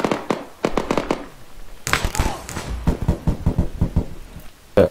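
Flashbang grenades bursting in a tactical shooter video game, two sharp loud blasts followed by ringing noise and scattered clatter, with quick percussive impacts afterward.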